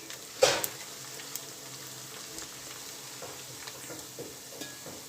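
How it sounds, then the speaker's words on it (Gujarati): Onions softening in a pan until light pink, a faint steady sizzle with a sharp clatter near the start and occasional soft stirring taps. "આપણે ચડવા દઈશું"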